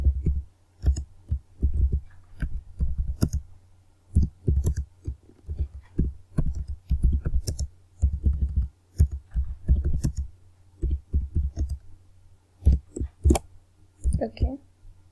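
Computer keyboard keys clicked in uneven bursts while a message is typed, close and fairly loud, with short pauses between runs of keystrokes.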